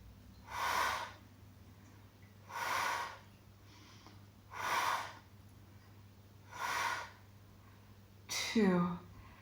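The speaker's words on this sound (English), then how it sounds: "exhale left, inhale, exhale left, inhale" Steady breathing during a Pilates magic circle exercise: five slow, even breath bursts about two seconds apart, each a soft airy rush close to the mic, with the last one sharper and ending in a brief voiced tail.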